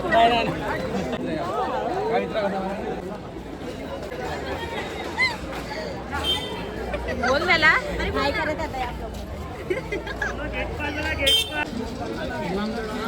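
Dense crowd packed around the Lalbaugcha Raja Ganpati pandal in Mumbai, a constant loud hubbub of many overlapping voices and shuffling movement, with people talking close by throughout.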